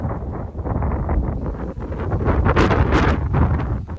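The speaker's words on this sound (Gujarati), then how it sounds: "પવન બહુ છે ને" Strong wind buffets the microphone in a loud, continuous rush that swells and gusts throughout.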